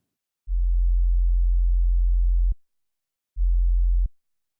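A low bass sine tone dropped down an octave sounds alone, in two steady held notes: a long one of about two seconds, then a shorter one after a pause, each ending with a faint click.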